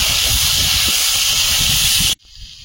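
Tomato drops into a pan of frying potatoes, and a loud, close, continuous hissing sizzle runs for about two seconds before cutting off abruptly into near quiet.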